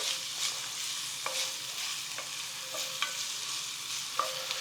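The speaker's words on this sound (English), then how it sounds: "And then let's get this onion in there. Let's see if we hear a little sizzle" Onion sizzles steadily in hot oil, a soft continuous hiss with occasional small pops and faint clicks of stirring.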